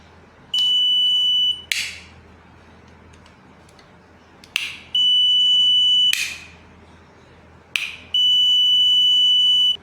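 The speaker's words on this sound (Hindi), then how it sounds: "जैसे मैं ऑन कर रहा हूँ इसमें एक बजर की आवाज़ आ रही है" A multimeter's continuity-test buzzer beeps in three sustained tones of about a second each, separated by short clicks and pauses as a circuit is switched on and off, loud and close against a quiet background.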